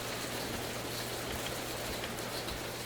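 Steady rain falls outside throughout, a continuous even wash of drops on a surface with a constant low hum underneath, moderately loud and unbroken, with no one talking.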